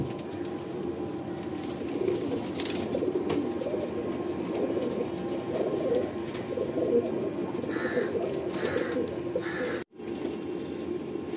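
A pair of pigeons at a Kolkata pigeon loft coo steadily and continuously, with soft low murmuring, close by and moderately loud, and no talk over them.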